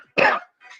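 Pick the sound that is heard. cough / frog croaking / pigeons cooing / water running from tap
cough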